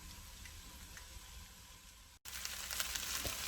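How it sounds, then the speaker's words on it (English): Veggie fried rice sizzles in a hot pan with a continuous crackling hiss. A brief gap cuts the sound, then scraping and stirring noises return slightly louder. "I'll get it all stirred in and we'll see"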